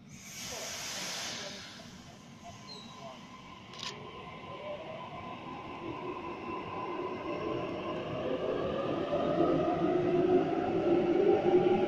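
A train on Sydney's Epping to Chatswood line rumbles in and grows steadily louder, with a low rolling roar and a rising hiss and whine as it nears the platform.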